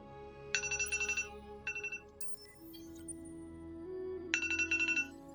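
A timer alarm rings in three bursts of rapid electronic trilling beeps, close and clear, with soft game music playing in between.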